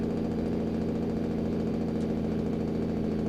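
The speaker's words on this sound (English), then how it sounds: "I'll turn on the engine brake here." A truck's engine brake in American Truck Simulator, set on a steep mountain descent in New Mexico's Carson Forest, gives a steady, loud low drone with a dense, rattling engine rumble and no break over the whole stretch.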